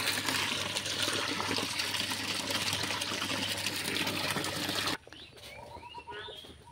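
A motor pump runs steadily as water pours into a drum, a loud continuous rushing wash that stops abruptly, leaving faint ambient sounds and bird chirps.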